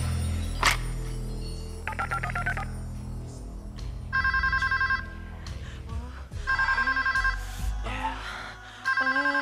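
A telephone in a gritty hip-hop scene sounds a quick string of touch-tone dialing beeps, then repeated bursts of electronic ringing with pauses between, loud and close over a low music bed.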